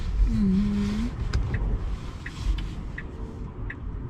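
A Tesla car rumbling along with steady low road noise, a brief whining tone early on and scattered clicks and knocks from inside the cabin.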